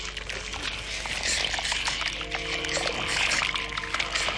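Liquid pours through a funnel in a puppet's head and out its mouth, a continuous wet rushing and gurgling stream held at an even level throughout.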